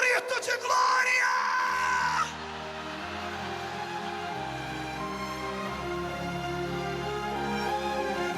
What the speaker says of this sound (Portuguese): Quem crê nisso, dê um grito de glória.